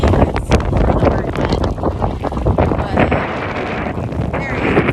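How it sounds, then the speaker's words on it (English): Strong, gusty wind on the shore of Lake Erie roars steadily and buffets the microphone, with blustery surges rising and falling over the whole stretch. "it's very windy out there, and I swear it's just like a hurricane. The winds are so strong."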